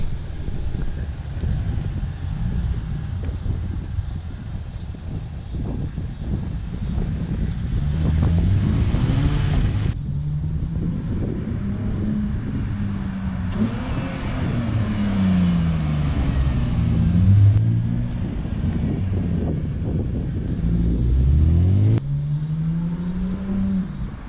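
Car fitted with an electric exhaust cutout and muffler delete, recorded from outside the vehicle: a loud, steady exhaust drone with rising and falling revs and several throttle blips, under some wind noise.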